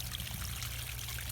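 Water trickles steadily down a small garden pond waterfall lined with watercress. It makes a continuous, even splashing wash that stays soft and close, without breaks, and no one speaks.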